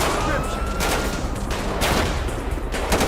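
Rapid gunfire in the video game GTA V, dense bursts of loud shots throughout, with a voice talking over them.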